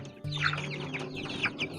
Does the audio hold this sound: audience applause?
no